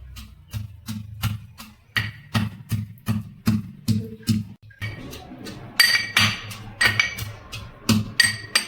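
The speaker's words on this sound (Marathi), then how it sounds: "आता आपलं हे लसूण ठेचून झालंय, आलं लसूण कोथिंबीर ठेचून झालंय" Garlic, ginger and coriander crushed in a kitchen, giving a steady run of sharp knocks and clinks roughly twice a second. The strikes sit close and fairly loud, and they turn denser and brighter toward the end.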